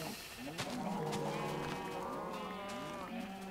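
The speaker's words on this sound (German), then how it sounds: "Und weiter unten sind noch Kühe." Cows and sheep in a Minecraft game, with several overlapping moos and bleats sounding moderately close in an enclosed pen, no talking.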